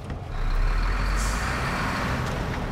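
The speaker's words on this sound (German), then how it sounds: "Oh, ich finde diesen LKW-Sound einfach nur geil." Heavy truck engine in the off-road driving game SnowRunner, a steady loud diesel rumble droning throughout, with faint hiss and brief high tones layered on top.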